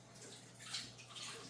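A kitchen sink tap runs as a small amount of water is drawn for baking cinnamon buns, a soft steady hiss and splash, quiet and continuous for the short stretch.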